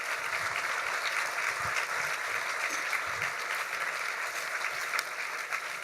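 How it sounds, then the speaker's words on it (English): Sustained audience applause fills an award luncheon hall, steady and dense throughout with no pauses. "Let's give them another round of applause."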